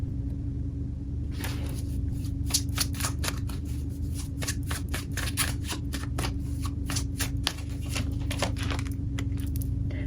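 Tarot cards are shuffled and drawn in a rapid series of crisp riffling flicks, near and clear over a steady low hum, with no talking.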